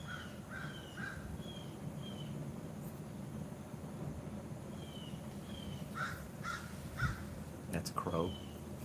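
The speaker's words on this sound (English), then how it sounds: "That's a crow." A crow caws outdoors in a series of harsh, repeated calls, some in quick pairs or triplets, heard at a distance over a steady low background hum.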